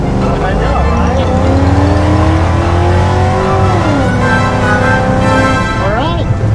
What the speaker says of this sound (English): we're just gonna power brake a little bit and show you some of the power